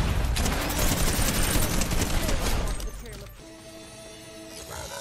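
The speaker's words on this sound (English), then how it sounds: "throwing grenades at me" Heavy Fortnite video game gunfire and grenade explosions, a dense loud barrage of shots and blasts that fades into quieter game sounds after a few seconds, with talk mixed in.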